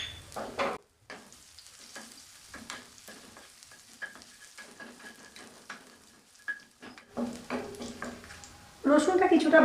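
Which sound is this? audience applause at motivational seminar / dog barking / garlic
garlic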